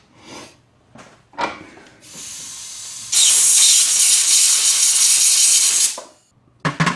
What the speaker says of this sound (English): Blow that out with some compressed air because you don't want any carb spray in there.